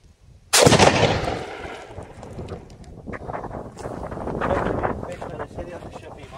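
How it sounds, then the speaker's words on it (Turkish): Derya Arms N100 shotgun firing a single loud, close shot that cracks out and decays into wind noise and muffled outdoor rumble, with talking nearby. "Beş tane seri atış yapayım abi."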